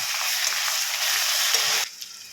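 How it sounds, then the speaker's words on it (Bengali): Onions fry with ginger-garlic paste for a Bengali chicken and potato curry, a loud steady hiss of sizzling oil that cuts down sharply near the end to a quieter sizzle, no talk. "আদা রসুনের পেস্ট দিয়ে এটাকে ভালো করে একটু ভেজে নেব"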